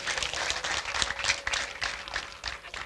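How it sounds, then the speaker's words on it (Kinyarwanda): A church congregation bursts into applause, dense overlapping clapping that swells and pulses steadily for a few seconds with no talk over it. "Dukomere Imana amashyi menshi cyane."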